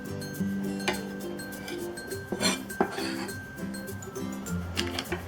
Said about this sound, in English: put this all back on the plate